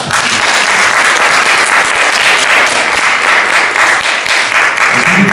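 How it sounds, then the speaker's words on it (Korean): An audience at a lecture on American conservatism breaks into loud, sustained applause after the talk, a thick, continuous roar of many hands clapping close and full, with no speech on top. "송은정 변호사님께 우선 큰 박수"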